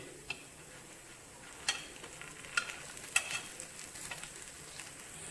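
Paniyaram batter balls sizzle softly in a pan as they are turned to cook, a faint steady frying hiss with scattered small ticks and clicks of the turning tool, no voices.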